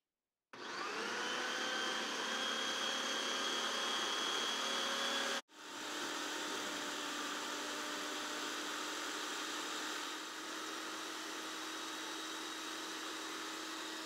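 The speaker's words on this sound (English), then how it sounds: "Our food processor is a bit on the small side, so we're just going to put the mint leaves in" A small food processor grinding mint leaves and coconut pieces for a coconut chutney, a loud steady motor whine starting abruptly, cutting out for an instant, then resuming and running on with a slight drop in pitch.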